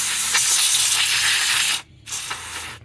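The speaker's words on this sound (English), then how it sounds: "I'm also going to clean up the controls with a little contact cleaner" WD-40 contact cleaner sprayed onto the controls of an RCA radio: a loud, close aerosol hiss in one long burst, a brief pause, then a second shorter burst, with no talking.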